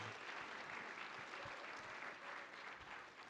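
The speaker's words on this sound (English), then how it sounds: "So let's give them a round of applause." An audience at a tech conference applauds, a dense, even wash of clapping that holds steady for a few seconds, distant and fairly quiet in a large room.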